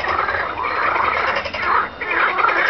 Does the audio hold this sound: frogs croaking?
yes